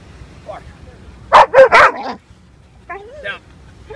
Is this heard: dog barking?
yes